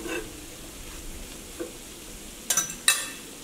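Chicken masala fries quietly on a tawa, a faint steady sizzle broken by a few sharp scrapes of a spatula near the end.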